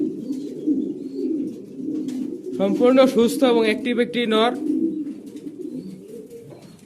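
A healthy male Blue Bar Beauty Homer pigeon gives a close, throaty burst of cooing lasting about two seconds, with someone talking steadily before, under and after it.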